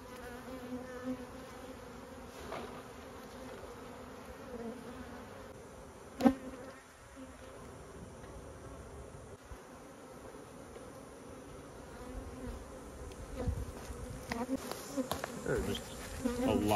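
Honey bees buzz inside a box packed with a swarm during a swarm-trap transfer. The drone is steady and low-level throughout, with a brief knock partway through and occasional light handling noises.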